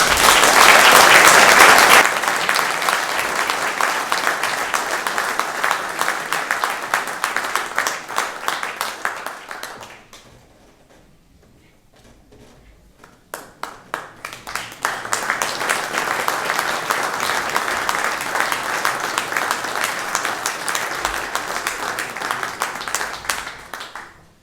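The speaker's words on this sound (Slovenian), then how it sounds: "lahko zaploskamo" An assembly audience in Mežica applauds award recipients receiving gold plaques, beginning with a loud burst, then long steady clapping that fades almost to silence before a second strong wave of applause rises and carries on.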